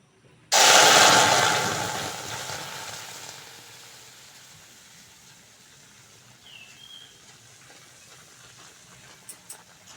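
Raw mango pulp for jam hits a hot karahi on the stove with a sudden loud burst of sizzling steam that slowly fades to a quiet simmer, with a few faint clicks at the end.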